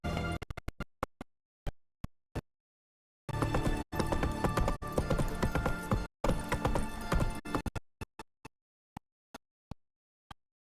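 Horse galloping in the video game The Witcher 3: sparse clip-clop hoofbeats at first, then a dense stretch of rapid galloping, then scattered single hooves again, with no talking.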